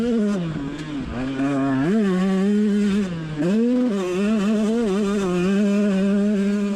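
A two-stroke 125cc motorcycle races around the turns of a track, its high-pitched engine note loud and close, rising and falling with shifts and throttle through a chicane, with no other sounds.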